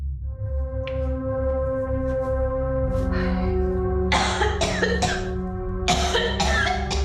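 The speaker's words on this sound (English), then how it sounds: "she suddenly heard someone let out a loud cough" A loud cough bursts out in a shared public restroom, several harsh throaty hacks in quick succession near the end, following a sustained tonal hum.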